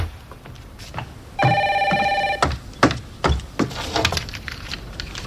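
A telephone bell rings in one short burst of bright electronic tones, loud and close, followed by clattering handling sounds as the receiver is picked up.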